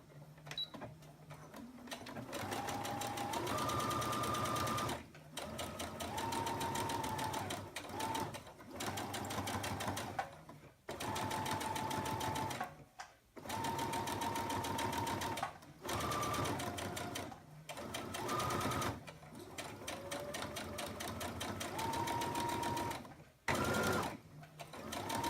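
A sewing machine runs in bursts, top stitching close along the folded edge of a wristlet band, its rapid mechanical whir stopping and starting repeatedly with brief pauses between runs.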